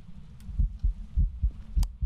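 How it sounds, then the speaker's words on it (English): Heartbeat sound effect in the ghost-hunting game Phasmophobia: a steady run of low, muffled double thumps, close and prominent, repeating about every half second with no talk over it. "Why was my heart beating?"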